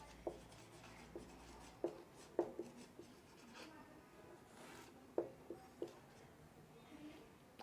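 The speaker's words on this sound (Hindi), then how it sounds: "उसको मैं यहाँ पे लिख रहा हूँ" Chalk or marker strokes on a classroom board, heard as faint, close taps and short scratchy scrapes in scattered bursts over a quiet room background, with no talking.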